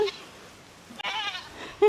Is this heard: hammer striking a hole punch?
no